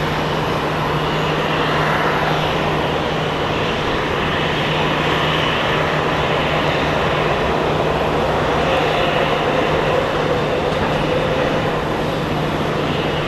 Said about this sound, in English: So we have an Ameriflight Embraer Brasilia coming in.